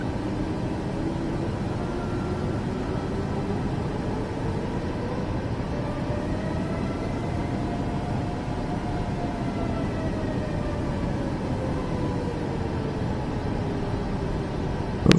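Airliner taxiing in Microsoft Flight Simulator after a Phoenix to San Diego flight, a steady engine hum and broadband rumble with a tone that slowly rises and falls, continuous and unbroken, without talk.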